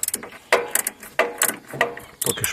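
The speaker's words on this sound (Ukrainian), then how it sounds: "Головка на 12, продовжувач і вороточок з прищоточкою" A ratchet wrench with a 12 mm socket and extension turns a hydraulic flow valve on a T-40 tractor, making three or four close, rapid clicking ratchet bursts separated by short pauses.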